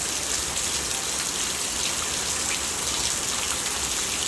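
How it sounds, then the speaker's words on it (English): Heavy rain during a severe storm, a dense, constant roaring hiss of downpour at steady loud level throughout, with no voices and no distinct breaks. "You probably can't see the rain, but it's bad."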